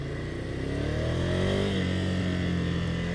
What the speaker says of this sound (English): I love the way the power comes on this motorcycle